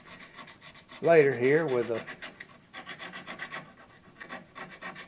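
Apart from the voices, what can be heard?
sandpaper rubbing wood while shaping a Gibson banjo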